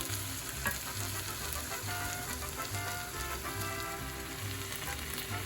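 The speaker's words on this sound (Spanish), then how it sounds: "vamos a dejarlo así por un ratito para que se fría todo junto" Pork chops, chiles and vegetables frying together in a pan over medium heat, a steady close crackling sizzle with a constant low hum beneath it and no talking.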